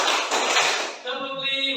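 A classroom of pupils claps out a short counted pattern, a quick burst of close, crisp hand claps lasting about a second before a voice takes over.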